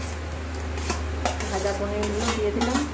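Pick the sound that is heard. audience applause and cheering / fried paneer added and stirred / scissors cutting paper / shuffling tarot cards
fried paneer added and stirred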